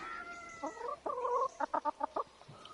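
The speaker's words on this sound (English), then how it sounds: "I like listening to the chickens." Chickens cluck and chatter in the video game Pentiment: a run of quick, staccato clucks rising from soft calls, fairly close and moderately quiet, with no voices.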